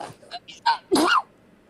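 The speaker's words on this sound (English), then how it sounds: "a cute sneeze" A single sneeze, close and fairly loud, preceded by a few short breathy catches and little throat sounds, heard on its own with no talk over it.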